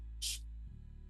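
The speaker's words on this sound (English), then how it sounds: "imagine your hands are out and I'm spraying your hands" A single short burst from a spray bottle, a crisp airy hiss lasting a fraction of a second against a low steady hum.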